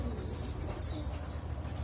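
Inside a pigeon loft, adult pigeons and their chicks make a dense, constant chatter of soft cooing and tiny chirps, heard close over a rough background hiss.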